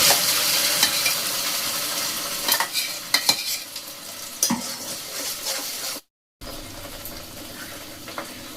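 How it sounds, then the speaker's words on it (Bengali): Spices frying in a little oil while being stirred, a loud close sizzle with scraping and clacking of the utensil, broken by a brief cut to silence near the end. "আমি অল্প একটু তেল দিয়েছি আর দিয়ে দিলাম এখানে মশলাটা।"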